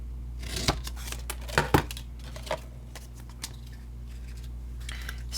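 Scissors snipping through a piece of cardstock for a handmade card box, giving a few crisp cuts and clicks close by over a steady low hum, with no talk.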